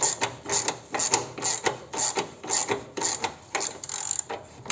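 A ratcheting 9/16 wrench loosening a nut on a Harley-Davidson Touring light mount, a close rapid series of repeated ratchet clicks in rhythmic bursts, with no talk.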